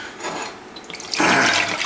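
Apple juice poured out of a bottle to leave headspace for hard cider fermentation, a soft liquid trickle that swells into a louder, steady glugging splash partway through, close and without talk.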